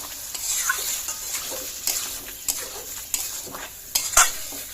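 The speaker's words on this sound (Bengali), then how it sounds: "মশলা দিয়ে একটু কষে নেব" Spices frying with chicken in a pan, with a soft continuous sizzle and periodic scraping, clinking stirs against the metal, close and without talk.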